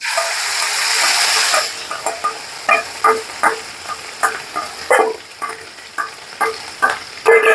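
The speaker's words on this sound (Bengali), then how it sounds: "মাছের ডিমটাও ভেজে নিব।" Katla fish roe fries in a pan with a steady broadband sizzle, interrupted by a series of rhythmic scraping stirs from a spatula that punctuate the hiss. The sound is close and fairly loud, with no talk.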